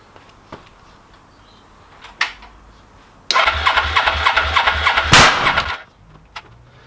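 A Suzuki GS500 motorcycle, first start in years: a few clicks, then the engine catches with a loud, lumpy, pulsing run for about two and a half seconds before dying back to quiet.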